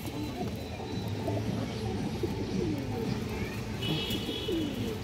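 A female Kaldam pigeon coos in a busy indoor pigeon market, soft low repeated coos close by under a constant murmur of background voices and crowd noise.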